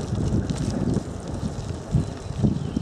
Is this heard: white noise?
no